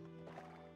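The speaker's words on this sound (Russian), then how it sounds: "А, так, тут мои лошадки." Horses neigh in the online game Black Desert Online, a faint whinny with tonal overtones over soft background ambience, brief and distant.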